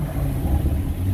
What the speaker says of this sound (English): Let's listen to the engine. It's a quiet car,